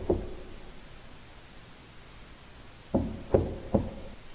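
A sound-effect door knock: three sharp raps in quick succession, close and fairly loud, following a faint earlier tap against a quiet background.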